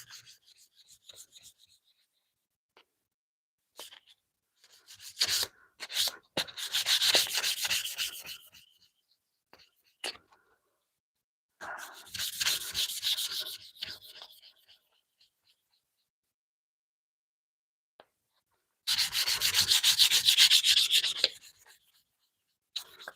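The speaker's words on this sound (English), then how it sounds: "I am sanding, but I am sanding relatively lightly." A madrone and epoxy hook knife being lightly sanded by hand, several separate bursts of soft scratchy rubbing with quiet pauses between strokes, close and fairly faint.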